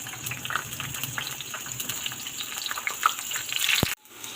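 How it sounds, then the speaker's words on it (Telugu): Mustard seed tempering frying in hot oil for dal, a close dense sizzle with tiny popping crackles that runs steadily, then cuts off abruptly near the end, with no one speaking. "ఇప్పుడు మేము పోపు అయితే పెట్టేసుకున్నాం."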